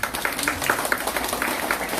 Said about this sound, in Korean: 다 같이 우리 박수.